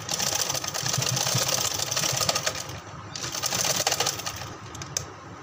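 A sewing machine stitches a pleated baby frock in a quick, steady mechanical rattle that runs almost without a break, close and fairly loud, pausing only briefly near the middle.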